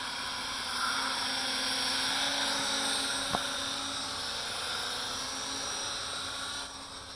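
A Syma X9 quadcopter drone flies with a steady high-pitched motor and propeller whine, fairly loud and constant, with a brief click in the middle and a slight drop in level near the end.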